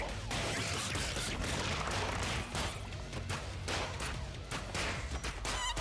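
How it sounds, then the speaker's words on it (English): Gunfire with bouncing bullets in the video game ScourgeBringer: dense, rapid bursts of sharp shots and impacts over game music, with a continuous busy, loud texture. "Get your bouncing bullets out of my dungeon"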